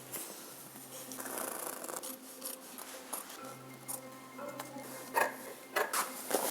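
Scissors cut through blackout window cover material in a steady stream of soft snipping and rustling, close and fairly quiet, with occasional sharper snaps toward the end.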